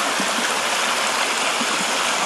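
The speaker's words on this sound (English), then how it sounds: "you can hear, this is my stream, this is my water source" A mountain stream that serves as a hiker's water source rushes steadily, a dense, even wash of flowing water filling the whole moment close by, with no voices.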